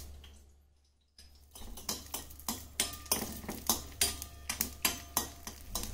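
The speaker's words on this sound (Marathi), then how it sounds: "काजू बदाम जे आपले आहेत ते आपल्याला थोडेसे तुपामध्ये परतून घ्यायचे" Cashews and almonds roasting in ghee in a pan for parappu payasam: after a quiet start, a spoon knocks and scrapes against the pan in a steady rhythm of repeated close clinks over soft background sizzle.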